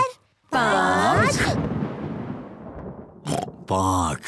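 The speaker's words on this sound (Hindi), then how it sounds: "गिनती करने से तूफान दूर चला जाएगा।" A cartoon thunderstorm rumbles in a long, loud, noisy roll of thunder that fades away. Animated character voices come before and after it.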